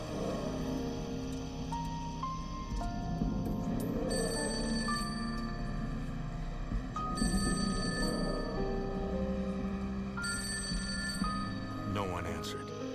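A telephone rings repeatedly and goes unanswered, its bell tones recurring steadily over a dense, busy background with dramatic music and a voice speaking.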